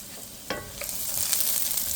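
Chopped garlic sizzles in a hot pan, a soft steady frying hiss that swells after a brief clink of the spoon and keeps going, close and fairly quiet, with no talking.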